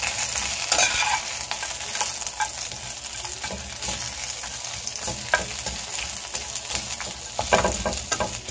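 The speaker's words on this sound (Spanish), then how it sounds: "Aquí voy a darle una ligera dorada a lo que son los chiles" Chipotle chiles being toasted in a frying pan, a dry close sizzle with repeated scraping stirs and light clatter, no talk.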